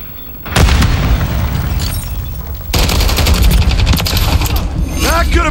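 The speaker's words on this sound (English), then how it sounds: "Throwing grenade! Throwing grenade!" Grenade blast in Modern Warfare 3 on the Terminal map: a loud, close explosive roar that erupts suddenly and sustains, then swells again with a second burst of rumbling gunfire and debris.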